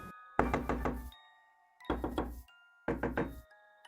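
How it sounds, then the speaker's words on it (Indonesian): Hard, urgent knocking on a house door at night, three separate bursts of rapid heavy blows with short silences between them, loud and close. "langsung ngedor pintu sekencang-kencangnya"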